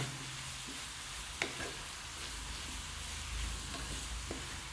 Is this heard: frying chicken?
yes